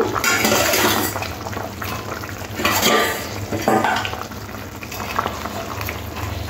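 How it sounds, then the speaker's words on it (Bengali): Rohu fish pieces going into a boiling curry broth with drumsticks and potato, a close, continuous bubbling and sloshing with a few clinks of utensils against the pot, no talk. "ঝোলটা ফুটে উঠেছে, এবার মাছগুলো দিয়ে দেব।"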